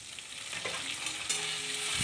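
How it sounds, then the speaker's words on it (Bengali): Chopped onions and tomato frying together in a pan, a soft steady sizzle with a few faint stirring scrapes, close and quiet, no voices. "ভালো করে পেঁয়াজগুলো টমেটোটা একসাথে ভালো করে ভেজে নিতে হবে।"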